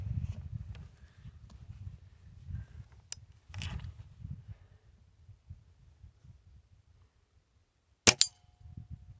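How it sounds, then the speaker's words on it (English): Air rifle pellets hitting a small metal spinner target about 20 yards away, heard as a few sharp metallic dings spread across low rumbling background noise, with the last ding ringing briefly. "he's shooting this tiny little spinner, probably close to 20 yards here. He's having fun dinging that."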